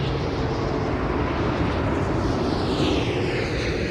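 An aircraft passes near London Heathrow, a steady, loud broadband roar filling the whole stretch with a faint rising whine toward the end.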